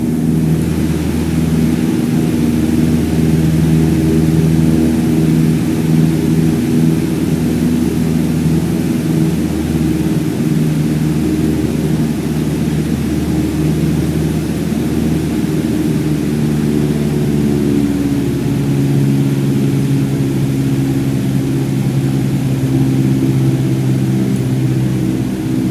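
Steady droning propeller engine of a light aircraft in Microsoft Flight Simulator 2020, cruising with throttle eased back to about 1,800 RPM; loud, continuous hum with stable tonal bands and a slight pitch shift midway, no talk.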